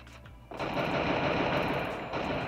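Gunfire in a shooter video game begins after a brief quiet moment, then becomes a rapid, sustained burst of loud automatic shots that continues to the end.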